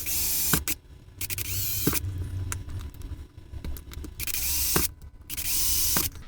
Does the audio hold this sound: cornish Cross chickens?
no